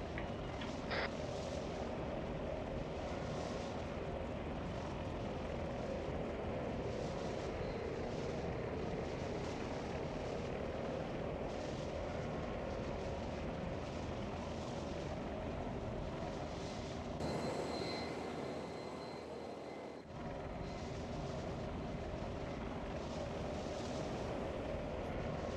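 Aircraft engine droning steadily in flight during a military unit training exercise, a continuous broad roar heard from inside, with a brief change in tone near the end and no talk.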